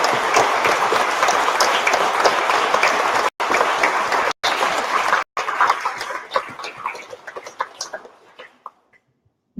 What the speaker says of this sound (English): let's give a round of applause to all of our winners